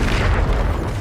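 Bombarda spell blast in the Hogwarts Legacy video game, a loud, booming explosion filling the whole short moment with deep rumbling energy.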